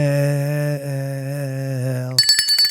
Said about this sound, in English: You can ring Doug's bell.